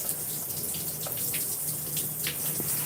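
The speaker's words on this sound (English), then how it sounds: "I'm just rinsing them off." Hair is rinsed under running tap water, making a continuous close hiss and splash with slight surges throughout.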